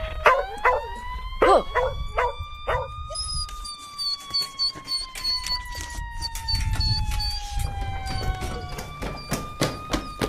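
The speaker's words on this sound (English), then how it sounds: "Oh shoot, it's a dog." A dog barking in a run of sharp barks early on, then a long rising and falling howl-like tone resembling a siren, with an engine rumble underneath.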